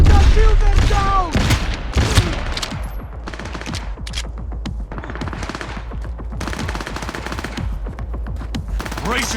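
Gunfire aimed at a building in the video game Cyberpunk 2077, with dense rapid machine-gun bursts and heavy booms at the start, then continuous loud firing throughout.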